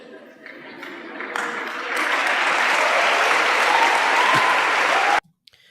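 An audience claps at a live spiritual talk with Sadhguru and Sri Sri Ravi Shankar. Dense applause swells over a couple of seconds, holds loud and steady, then cuts off abruptly.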